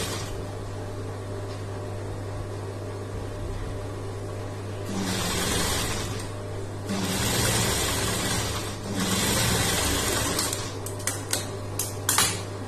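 An electric sewing machine stitches lining pieces for a blouse in a few short whirring bursts, joined by faint clicks and a low steady hum, with no talk.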